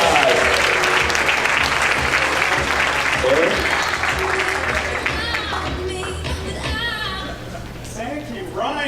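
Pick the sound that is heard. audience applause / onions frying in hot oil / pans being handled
audience applause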